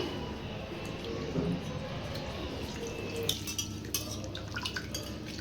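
Boiled raw mango pulp is squeezed and mashed by hand in a metal vessel, with wet squelching, dripping and occasional clinks of the pot, close and moderately loud, ending in a run of soft wet squishes.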